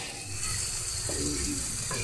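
Steady, loud sizzling and crackling of fish frying in hot oil in a pan, continuous throughout with no talking.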